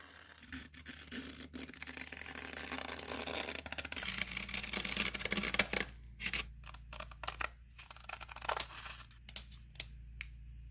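Scissors snipping through fabric pieces for a Dollar Tree home decor craft, a run of crisp, close cutting strokes that quicken into rapid choppy snips in the second half, with no talking.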